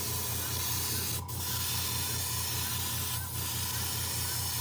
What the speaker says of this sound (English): You can hear that little compressor down there.